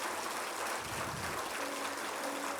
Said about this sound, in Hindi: एक बार सभी एक दूसरे के लिए पुनः तालियों की गड़गड़ाहट